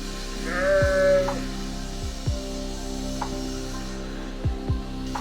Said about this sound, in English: You need to come catch the sheep in action.